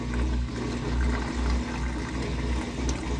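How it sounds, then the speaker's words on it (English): Water drains out of a Samsung WA50R5200AW top-load washing machine, a steady rushing gush with a low pump hum running continuously at close range, with no speech. "turn the power off, and see, water's coming out now"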